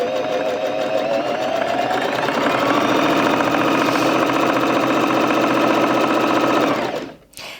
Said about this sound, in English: put my foot on the foot pedal to start sewing